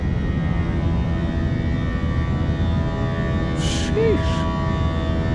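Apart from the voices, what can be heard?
Fenix A321 airliner engines climbing in Microsoft Flight Simulator 2024 video game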